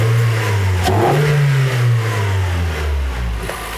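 A 2020 Toyota Corolla fitted with a Remark exhaust and an AEM intake is revved hard. The engine pitch sweeps up sharply and then falls away, loud and close.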